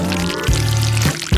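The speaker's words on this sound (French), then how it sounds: "je vais mettre de la sauce au-dessus des nouilles" Sauce poured by hand over noodles in a home kitchen, a few short close gushing pours with brief pauses between them, no talking.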